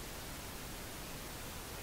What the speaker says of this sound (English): you can restrict pink noise with an EQ to 500Hz to 2kHz range